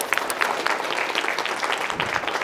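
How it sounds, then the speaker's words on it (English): Audience applause at the close of a motivational success seminar session, steady dense clapping throughout, fairly loud and close with no pauses. "let's give a round of applause for everybody"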